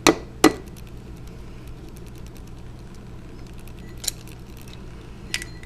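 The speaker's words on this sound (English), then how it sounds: "So what we're going to go ahead and do is crack this egg." An egg is cracked for a slow cooker lasagna, two sharp shell knocks close together at the start, then quieter clicks and taps from the shell, with no talking.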